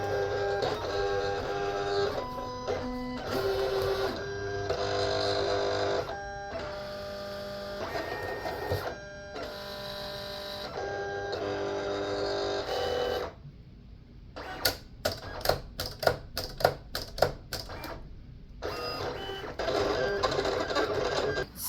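A Silhouette cutting machine works through laminated printed vinyl, its carriage motor whirring in long steady passes broken by short pauses, then a run of rapid clicking stops and starts before the steady whir returns.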